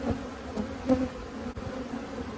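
Honeybees buzzing closely around a gloved beekeeper, a dense, continuous hum with brief swells as bees bump and fly past near the ear.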